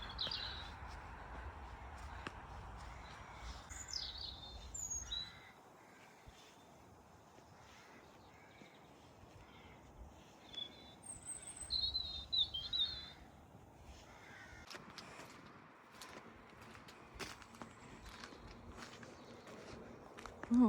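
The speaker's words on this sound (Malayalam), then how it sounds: "നല്ല കിളികളുടെ ഒക്കെ സ്വരമൊക്കെ ഉണ്ട്." Birdsong and chirps drift through a garden at a historic barn estate, faint to moderate and scattered across the stretch, with footsteps and soft outdoor ambience underneath and no talking.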